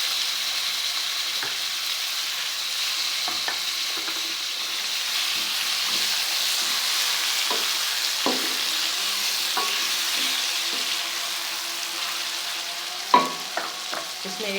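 Browned garlic sizzling in a pan with tomatoes going in for a spiced turnip curry: a steady, moderate hiss with scattered spoon scrapes and a sharper clatter near the end, no voices.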